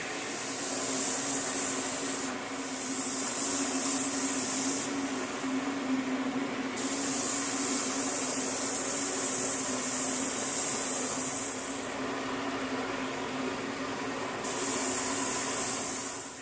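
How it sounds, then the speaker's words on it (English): A Binks 2100 series spray gun hisses steadily in long bursts, spraying a white blonde finish onto a mahogany guitar body, cutting off briefly between passes, with a constant low air-compressor drone underneath. "go at it here with our classic, legendary Binks 2100 series spray gun"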